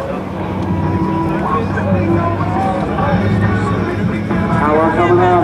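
Steady roar of a C-130J-30 Hercules's four Rolls-Royce turboprop engines, droning continuously during an air show demo while a person talks over it.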